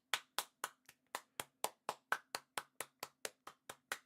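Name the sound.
hand clapping for a player leaving the pitch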